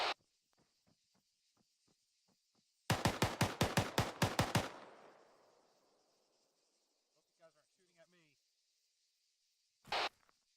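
Gunfire in a military video game operation: a few faint scattered shots, then a loud rapid burst of about ten shots that rings out into a decaying tail, followed by a short burst later, with voices faintly in between.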